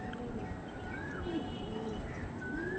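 A Chennai blood pigeon gives soft, low coos, a few faint rising-and-falling calls over a steady background hum, quiet and close.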